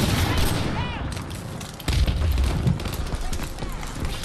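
Handgun fire in a multiplayer shooter game, a quick run of close, sharp shots with a heavier thud partway through, mixed into busy battle noise with gunfire in the distance and a voice speaking over it.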